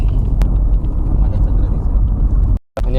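A Mahindra XUV 700 drives along a road with its panoramic sunroof open, giving a steady low rumble of engine and road noise throughout. The sound cuts out briefly near the end, and a voice comes in just after.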